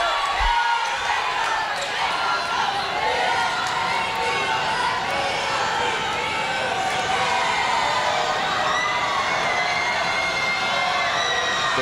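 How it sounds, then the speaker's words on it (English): Crowd at a girls' high school basketball playoff game cheering and shouting in a gym, a sustained noisy roar with scattered yells and court thuds under it. "The crowd has gotten involved for the first time tonight"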